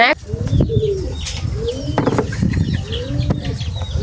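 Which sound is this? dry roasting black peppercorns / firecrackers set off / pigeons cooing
pigeons cooing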